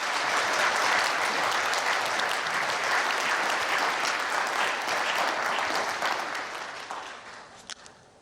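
Sustained applause from a large crowd at a national prayer breakfast fills the space, steady at first and gradually tapering off toward the end.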